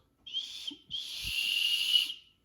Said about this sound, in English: I'll show you that the whistle works.